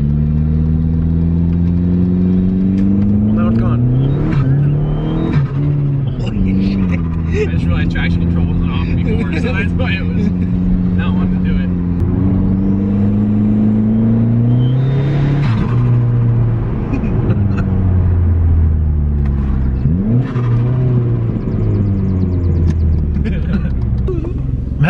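A Ford Focus ST engine with a boost leak drones and revs up and down steadily, with a rushing intake airflow whoosh, loud and close throughout while people occasionally talk over it.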